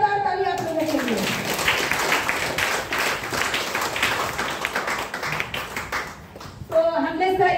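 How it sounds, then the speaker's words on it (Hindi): Audience at a DXN motivational meeting breaks into a sustained round of clapping that runs for several seconds, with voices heard at the start and end. "फिर से जोरदार ताली आप लोगों के लिए"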